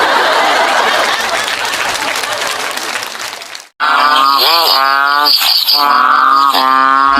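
Loud dense chorus of insects and croaking frogs on a rainy night, then a sharp cut to rhythmic, pulsing frog calls repeating loudly and close.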